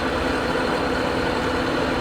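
A sailboat's engine motors along on Greek waters, a steady loud drone with a mid-range hum, unbroken and close.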